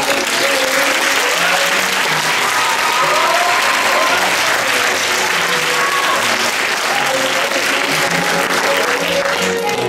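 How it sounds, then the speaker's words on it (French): Theatre audience applauding as the curtain opens on a staging of a Molière comedy, a dense, sustained wash of clapping that stays steady and loud for the full stretch without any voices standing out. "quand le rideau va s'ouvrir, les gens vont vous applaudir."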